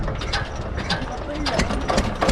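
A harvester engine in a village in Karnataka is cranked by hand, giving a rapid series of close mechanical ratcheting clicks and clunks over a low rumble.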